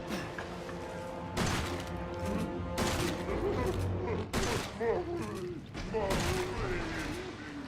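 Gunfire in a video game comes in several loud, sharp bursts spaced a second or so apart, mixed with clattering impacts, while people talk over it.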